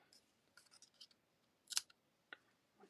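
Scissors snipping excess paper during a card-making craft, a quick series of soft crisp clicks and one louder cut, close and quiet with no voices.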